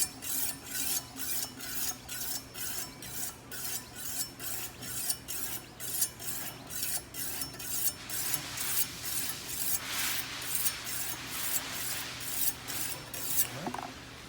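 A knife is drawn in even, repeated rasping strokes across a 600 grit stone on a Wicked Edge sharpener, about twenty close scraping passes in a steady rhythm, with no voices.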